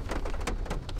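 Heavy rain pours down in a steady, dense hiss with scattered louder drops, continuous and close, with no voices.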